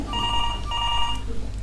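A telephone rings in a room, two electronic bell trills in quick succession, fairly loud over a low background hum.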